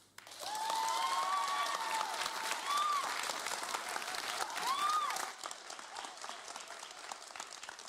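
An audience at a TEDx youth event bursts into sustained applause, a dense wash of many hands clapping that carries on for several seconds before tapering, with a brief voice and whoops faintly audible over it.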